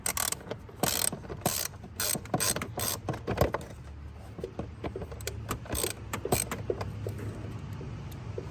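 Rapid clicking of a ratchet wrench loosening 8mm bolts on a car engine in quick bursts, with short pauses between strokes and faint metallic rattles, close by.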